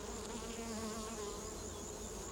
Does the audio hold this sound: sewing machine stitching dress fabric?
no